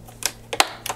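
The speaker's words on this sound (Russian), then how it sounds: "Одеваются они очень легко, просто со щелчком одеваем и защелкиваем." A brush attachment snaps onto a Fmart E-R550W(S) robot vacuum cleaner, giving three sharp plastic clicks spaced about a third of a second apart, close and alone.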